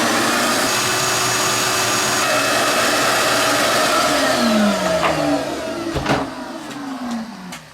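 A vacuum cleaner runs with a loud, steady broadband roar, then its motor winds down with falling tones and a few knocks near the end.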